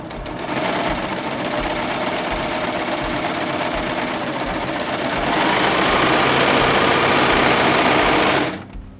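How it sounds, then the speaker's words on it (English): A serger runs continuously, serging fabric with the differential feed turned all the way up to gather it. It gives a loud, dense, rapid whirring hum for about eight seconds that rises slightly in pitch partway through, then cuts off abruptly. "We're gonna skim cut again, so open this up and serge."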